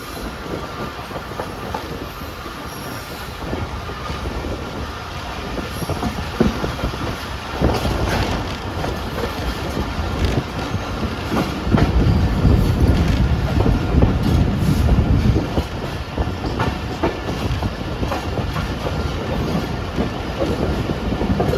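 The Shalimar Express pulls into Landhi railway station with heavy rolling rumble, rhythmic wheel clatter and faint squeals, loud and close, with buffeting wind on the microphone.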